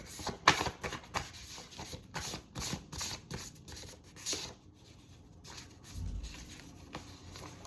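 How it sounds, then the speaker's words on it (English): Tarot cards shuffled by hand in a quiet room, a close run of quick riffling and slapping bursts with soft rubbing between them, no voices. "it may look weird how I'm shuffling these cards"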